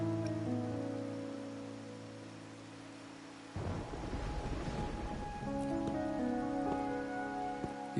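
Steady rain patters in the game Wuthering Waves, soft and even, under a low sustained musical drone that drops out midway and returns.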